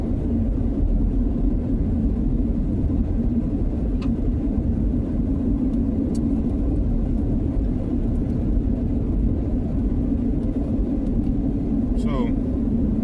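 A car's engine and road noise while driving, a loud steady low rumble filling the whole stretch with a few faint clicks on top.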